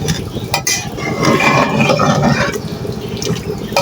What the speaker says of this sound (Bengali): কষানো শেষ, এখন ঝোল দিয়ে একটু